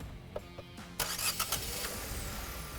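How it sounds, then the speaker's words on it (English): The Nissan Magnite turbo engine is cranked from off, with a few faint clicks followed by a sudden catch as it fires and settles into a quiet, steady hum. "what the car sounds like when you crank it from off"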